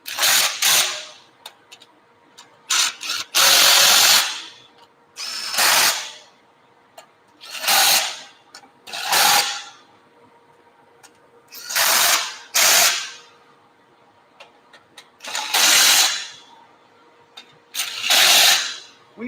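A ratchet tightens a mold for rotational molding of tanks, clicking in about seven loud, close bursts of rapid ratcheting separated by short pauses.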